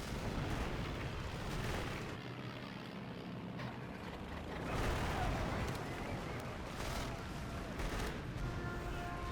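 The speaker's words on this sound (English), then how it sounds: "Try bombing them." Bombing raids in the World War II strategy game Axis and Allies RTS during the invasion of Okinawa, heard as a continuous low roar of distant explosions and artillery rumble with a few sharper blasts, fairly faint.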